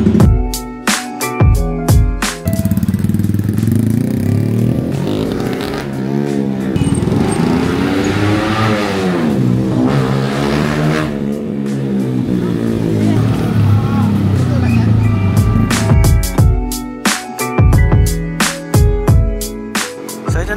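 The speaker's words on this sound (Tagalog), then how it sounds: "So ito na guys yung first ride natin sa ating Sniper 155 na naka-Cardinals Racing engine upgrade, street legal category." A Yamaha Sniper 155 motorcycle with an upgraded racing engine, heard close up as sharp revving bursts that give way to a long sweeping ride-by roar, then more rapid revs at the end.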